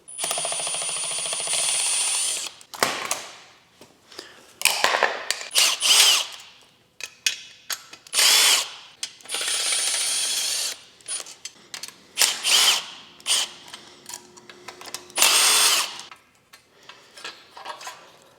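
A power tool works on the radiator fan blade and fan motor of a Mitsubishi Lancer Evolution VIII under restoration. Short, close whirring bursts start and stop repeatedly, separated by clicks and quiet gaps.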